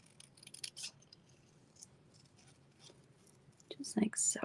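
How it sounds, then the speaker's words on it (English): Scissors snip through paper to cut out a hat shape for a pop-up gatefold card, giving a few short, close, quiet cuts with soft whispered talk between them. "we're just going to cut out our"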